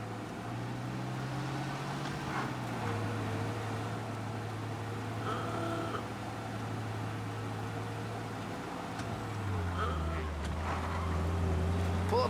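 A 1930s car driving through Little Italy in Mafia Definitive Edition, a steady low engine drone with shifting pitch as it cruises, moderately loud and continuous.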